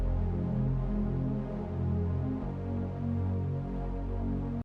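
Saw wave synth chords with the thirds raised an octave, for dancefloor drum and bass, play as two long sustained chords with a change midway, bright and buzzy, fairly quiet and alone.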